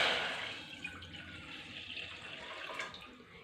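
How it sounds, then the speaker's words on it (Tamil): Water from about three tumblers is poured into a pot on a kitchen stove, a steady close splashing gush that tapers slightly, with no talking. "அடுத்து ஸ்டவ் ஆன் பண்ணி 3 டம்ளர் போல் தண்ணி சேர்த்துக்கலாம்."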